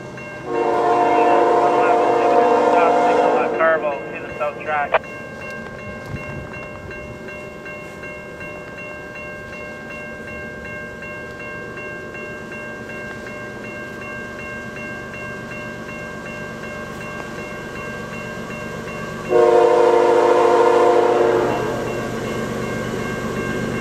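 A CN freight train, train 111 heading west at Carvel, Alberta, sounds loud blasts of its horn, then rumbles and clatters past for a long stretch before another loud horn blast near the end.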